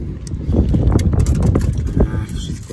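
Wind buffets the microphone outdoors during a car tire puncture repair, making a loud, low, uneven rumble that surges and fades throughout, with no clear talking.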